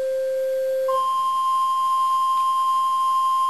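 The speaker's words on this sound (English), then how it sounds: "Now this is a flute sound, so you can see that this is very much a pure frequency." Steady pure tone from the flute stop of an electronic organ, playing treble C. A lower note shifts to a higher held pitch, sustained, clean and bright with no voices.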